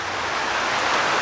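Heavy rain falls as a dense, steady hiss, close and even throughout with no pauses or voices.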